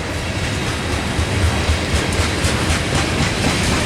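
A Norfolk Southern NS 392 mixed freight train passes close and loud, with continuous rumbling and rhythmic clickety-clack of wheels over rail joints.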